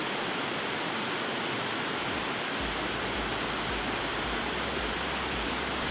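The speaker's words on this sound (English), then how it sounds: "the water rushing down it" Waterfall in New Zealand pouring down mossy rock, a constant broadband roar of rushing water, loud and close, steady from start to finish with no voices.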